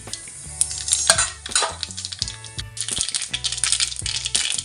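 Cumin and mustard seeds crackle and sizzle in hot oil in a pan for a cauliflower and potato dish, a close, busy spatter with metallic clinks and stirring scrapes throughout.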